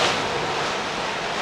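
Wind and waves at sea aboard an Outremer 4X sailing catamaran make a loud, steady rush of air and water, a broad wash of noise with no voices.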